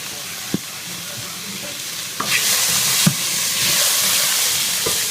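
Ground beef hits a pan with olive oil and garlic powder and sizzles steadily, the hiss swelling louder after a couple of seconds, with sharp clanks of a utensil stirring against the pan.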